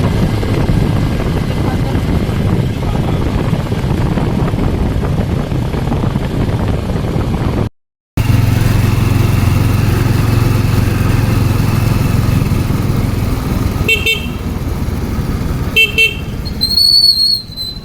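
A tricycle engine drones loudly while commuting toward Calamba, a continuous rough motor hum broken by a short gap, followed by several sharp horn toots near the end.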